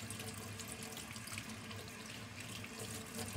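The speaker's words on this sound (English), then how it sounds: "My sink doesn't like to mix the hot with the cold water very well" Hot water running steadily from a home sink faucet over hands being rinsed, a close, even splashing stream with no talk.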